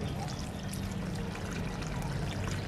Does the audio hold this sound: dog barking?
no